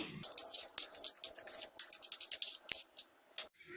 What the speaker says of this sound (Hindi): अब इनको अच्छे से मिक्स कर लेंगे।